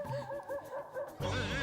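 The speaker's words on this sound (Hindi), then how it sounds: "ये कुत्ता रो रहा है" A dog whimpers and cries in a domestic indoor scene, giving a short series of high, wavering whines that grow louder and denser near the end.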